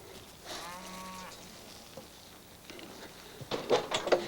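A cow moos once during a veterinary visit, a drawn-out low call close by, followed by quiet shuffling and a few knocks and rustles.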